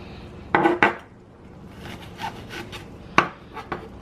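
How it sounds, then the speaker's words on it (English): A knife works through an onion on a cutting board in a home kitchen during taco prep, giving a few sharp chopping knocks in two brief clusters with quiet gaps between, close and fairly faint. "I'm just going to cut up some onion here."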